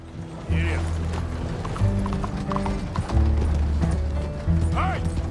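Horse hooves clip-clop steadily in Red Dead Redemption 2, a rhythmic trotting over low game music and mechanical rattles, with a couple of brief whinny-like calls and a voice speaking in between.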